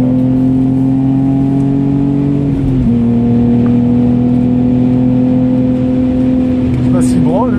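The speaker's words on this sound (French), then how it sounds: "Petit rupteur pas voulu." A Lexus IS200 race car on the Clastres circuit drones at steady high revs, stutters briefly against the rev limiter, then holds a loud, even engine tone with faint voices behind.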